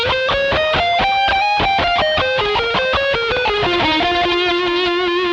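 Heavily distorted electric guitar playing a run of sustained notes, thick and gritty, stepping up and then down in pitch.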